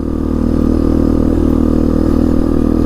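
A 1998 Yamaha Big Bear 350 4x4 ATV engine cruises at a steady trail speed, giving a loud, continuous, even drone with a light mechanical clatter and no revving or talk.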